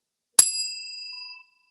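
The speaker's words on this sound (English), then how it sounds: "that's the bell" A single bright bell strike rings out sharply and decays over about a second, alone with no talk.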